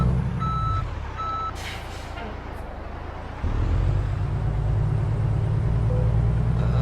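Reversing beeps from a Mack Titan truck in Euro Truck Simulator 2, a few regular electronic pips over a loud low engine drone that steps up in intensity partway through.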